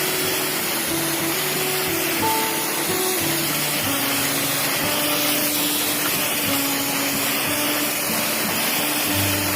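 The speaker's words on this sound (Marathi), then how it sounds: "आणि आता आपण सेवर आणि बड विल्डर याची फवारणी घेत आहे" A crop being sprayed with a Sevar and Bud Builder mix gives a loud, steady hissing drone that runs unbroken through the whole stretch, with no voices.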